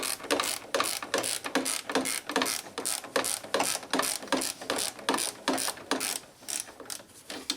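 A ratchet on a Nissan Altima engine mount bolt clicks in quick, close, rhythmic bursts of sharp pawl ticks as the bolt is snugged down, with no talking.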